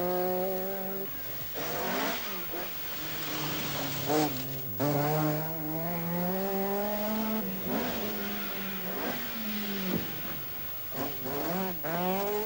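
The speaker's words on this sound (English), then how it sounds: "Grappling with a four-wheel drive Audi Quattro on racing tyres in such conditions is hard work, and Toivonen demotes him to third place." A four-wheel-drive Audi Quattro rally car on racing tyres at the 1984 Circuit of Ireland Rally, its engine loud and close, revving hard through repeated rising and falling gear changes with sharp bursts between shifts.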